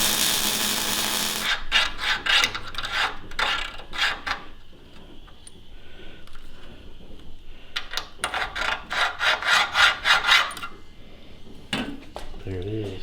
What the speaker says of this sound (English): I'm just going to grind those tacks off to make my other cut